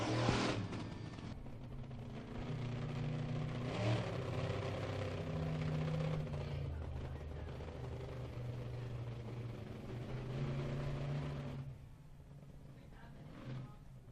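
A monster truck engine rumbles and revs at a dirt speedway event, a sustained mid-pitched roar that rises and falls with the throttle, then drops off toward the end, heard at some distance.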